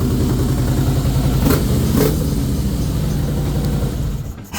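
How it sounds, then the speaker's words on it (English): A 2013 Harley-Davidson FLSTF Fatboy with stock, subdued pipes idles close by in a steady, low, even rumble that holds for a few seconds before dipping at the end. "Nobody's going to be screaming at you for starting this up too early in the morning. It's not that loud."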